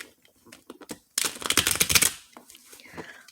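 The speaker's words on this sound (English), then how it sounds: "All right, one more shuffle," Tarot cards shuffled by hand, a burst of dense riffling and slapping for about a second after soft handling clicks, then quieter card taps trailing off.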